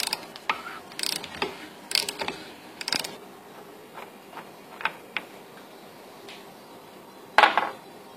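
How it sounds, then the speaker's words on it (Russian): Metallic ratcheting and clanking of tools as the adjusting nut is unscrewed on the electric steering rack of a 2008 Kia cee'd 1.6 petrol with a knocking fault, with scattered clicks and one louder clatter near the end. "Раскручиваем эту регулировочную гайку."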